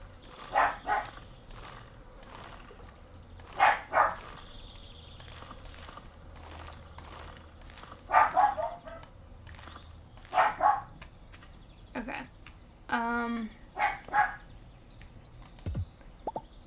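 A pet dog barks indoors in loud paired bursts, repeating every few seconds, close to the listener, with a whining yelp near the end and light background clatter.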